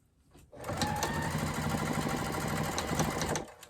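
A sewing machine stitches around a fabric bowl cozy in a steady, fast run of needle strokes lasting about three seconds, starting after a brief pause and stopping abruptly near the end, close and alone with no talk.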